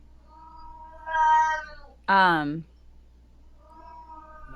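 A pet cat lets out a clear, close meow that rises and falls, set between quieter stretches of a person talking indoors.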